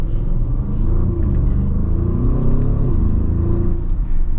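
Audi SQ8 V8 engine in dynamic mode rumbles and revs with a deep, continuous growl as the exhaust valve opens, a steady loud drone with no voices.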